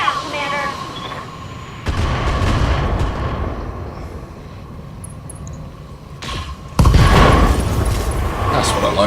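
Weapon fire and long-range missile launches in the BattleTech mech combat game, with bursts of booming, crackling fire in loud waves and a heavy volley near the end, set under a raised voice shouting in character.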